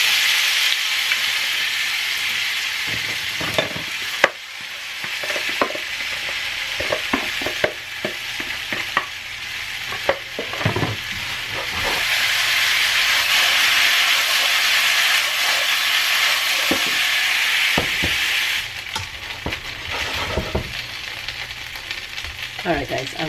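Potatoes fry in oil in a pan, giving a continuous bright sizzle that swells louder midway, broken by scattered clicks and scrapes of stirring, with no talking.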